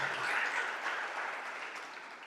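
A church congregation applauding, a broad crowd clap that swells early and then gradually tapers off, heard alone without speech.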